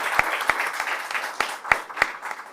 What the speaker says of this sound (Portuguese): lhe aplaudimos